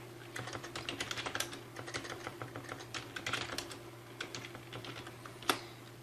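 Rapid, irregular keystrokes on a computer keyboard while entering a monthly budget spreadsheet name in Excel, close and fairly quiet, with one sharper key press like Enter near the end and no talking.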